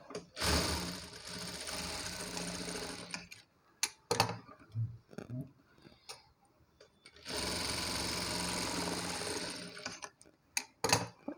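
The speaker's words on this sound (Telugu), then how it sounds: "ఇక్కడ నుంచి ఇక్కడికి ఒక కుట్టు వేయాలి" A sewing machine stitches fabric for a dori-hanging kurta detail in two bursts of fast mechanical whirring, with quiet clicks and fabric handling during the pause between them.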